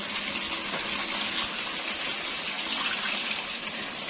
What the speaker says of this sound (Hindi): इसमें 1 कप इसमें पानी ऐड कर दूंगी।